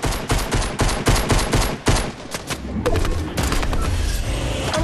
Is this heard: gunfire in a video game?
yes